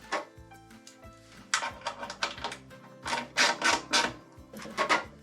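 Metallic clanks and ratcheting clicks from a bolt being snugged down on a snow plow being converted into a snow pusher, a quick irregular run of close, sharp taps and rattles.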